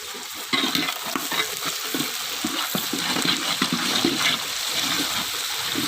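Onions sauté with salt in a pan: a continuous sizzle runs under frequent scraping stirs of a spoon against the metal, close and fairly loud throughout.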